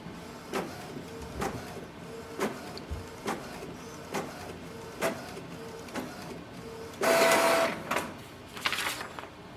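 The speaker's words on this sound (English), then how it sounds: "Because it's going to print first time after we have done this kind of ink flush, it may take 1 or 2 minutes." Canon Pixma inkjet printer printing its first page after an ink flush, a close series of rhythmic mechanical clicks and carriage shuttles about once a second, then a louder whirring feed burst and more clatter, no talking.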